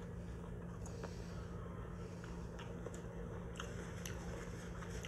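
Someone bites into light, crispy battered onions on a BBQ bacon burger, giving a few faint, close crunches over a steady background hum.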